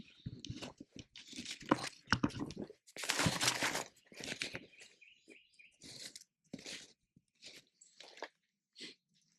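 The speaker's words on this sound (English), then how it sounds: "I can hear Trey over there calling to these birds" Bursts of raspy, chirping calls from a hunter's turkey call repeat in quick clusters, fairly close, with pauses between, worked outdoors on public land during a turkey hunt.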